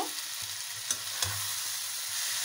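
Water spinach (kolmi shak) with coriander leaves is stirred in a hot pan, making a steady close sizzle broken by a few soft scrapes of the spoon.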